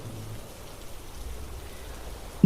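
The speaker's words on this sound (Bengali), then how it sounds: "বাইরে বৃষ্টি ঝরছে ঝমঝম করে, মাঝে ঝোড়ো দমকা হাওয়া" Heavy rain with gusty wind as an audiobook sound effect, a steady dense hiss of rainfall with low rumbling gusts, fairly quiet and even throughout, with no voices.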